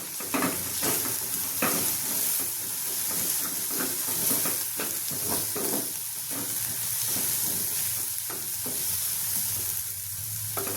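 A frying mixture with coriander and cumin is stirred in a pan for bedami poori, giving continuous sizzling with repeated scraping strokes throughout.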